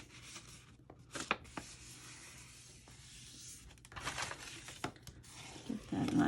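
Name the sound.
folding paper along score lines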